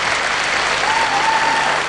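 An arena crowd at the 1992 Australian Gymnastics Championships gives a steady, dense round of applause after a floor routine, with no talk over it.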